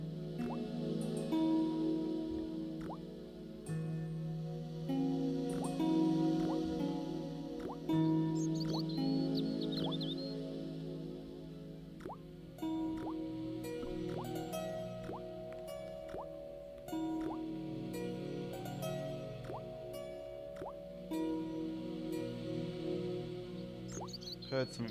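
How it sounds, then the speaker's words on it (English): An old faucet in Broken Sword runs and drips, giving scattered water drips and squishy gurgles over a sustained low game ambience and tonal music bed. "The faucet creaked, coughed, and spewed out a stream of rusty-colored water."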